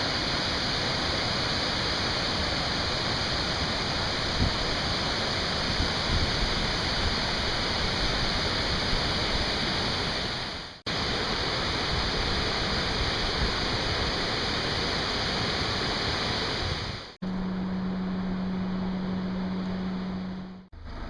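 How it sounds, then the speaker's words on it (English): A waterfall pours fresh water into the ocean on the Spanish coast, heard as a loud, constant roar of falling water with two short breaks and no talking. "fresh water comes into the ocean in the form of a waterfall"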